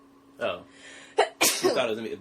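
A single sharp human sneeze bursts out between snippets of casual conversation, close to the microphone, with people talking just before and after it.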